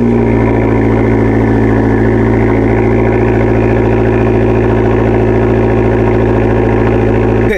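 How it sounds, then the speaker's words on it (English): A 2013 Fiat 500 Abarth's engine during a cold start, a loud, steady high-idle drone with heavy low rumble and buzzy harmonics, recorded close with no voices. "here is a cold start"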